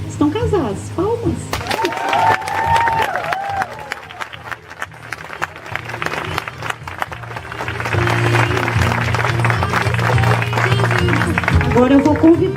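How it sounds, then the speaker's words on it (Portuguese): Guests at a wedding ceremony break into applause and cheering that builds to a steady crowd of clapping, with music and voices mixed in. "Estão casados, palmas."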